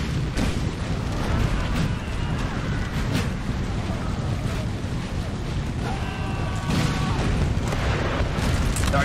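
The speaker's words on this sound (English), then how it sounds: "The artillery is just brutal, guys. It is just slaughtering these Prussians who are trying to advance through the tree line." Artillery fire in a Napoleonic-era battle game pounds Prussian troops advancing through a tree line, heard as a dense, continuous rumble of cannon booms and battle noise, loud and close with no clear speech.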